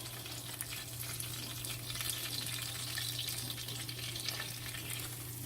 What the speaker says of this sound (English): we're going to pour this extra grease in the pan like so.